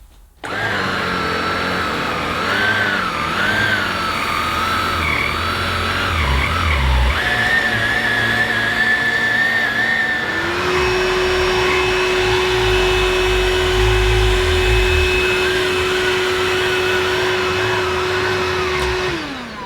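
Bosch Flexxo Serie 4 cordless vacuum cleaner running on carpet, a loud close steady whine and airflow roar that shifts midway to a higher, stronger power setting, with faint rustling over the pile.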